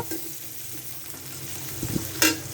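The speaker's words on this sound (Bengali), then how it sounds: "পেঁয়াজটা আমি বাদামি কালার আসা পর্যন্ত ভেজে নেব" Chopped onions frying in white oil in a pan, a soft steady sizzle with occasional stirring scrapes and a brief clatter near the end, no voices.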